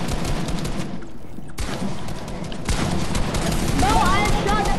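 Loud, continuous Fortnite gunfire, dense overlapping shots and impacts filling the whole stretch, with a brief dip before the barrage resumes, and players talking faintly underneath.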